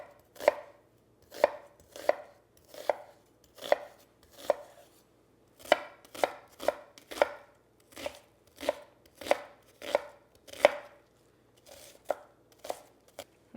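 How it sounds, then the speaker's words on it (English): An onion being finely chopped with a knife on a board for Greek stuffed pepper soup, crisp close knife strikes in a steady, slightly uneven rhythm of about fifteen cuts. "we need an onion, and I'm just going to finely chop it"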